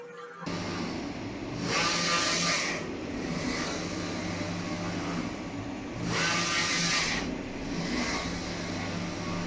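A Focus Atlas 1311 UV printer runs a print job, a mechanical whir that swells in two longer passes over a constant machine hum, close by and without speech.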